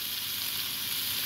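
Food fries in a hot pan with a loud, steady hiss and crackle that runs unbroken from start to end.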